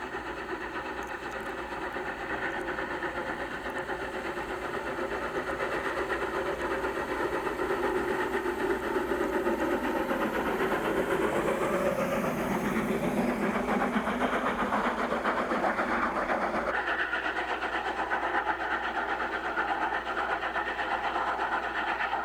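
An 1875 wood-burning 4-4-0 steam locomotive on the Durango & Silverton line near Hermosa in Colorado, a steady heavy mechanical rumble and chuffing that swells in the middle, then drops to a lower, steadier drone.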